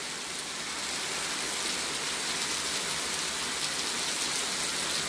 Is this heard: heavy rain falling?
yes